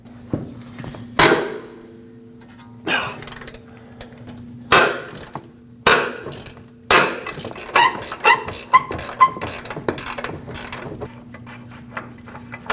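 Wrench work loosening an upper control arm mounting nut on a Nissan Frontier, a series of sharp metallic clanks and knocks with ratcheting clicks between them over a steady low hum, close and unvoiced.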